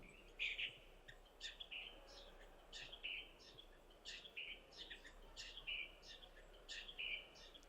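Repeated short bright bird calls, a chirping phrase recurring roughly every second over a low steady background hum.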